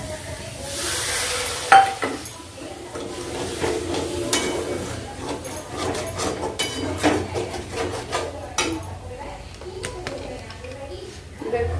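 Food fries in a pan with a continuous sizzle and frequent stirring clatters of utensil against metal, while people, including a child, talk nearby.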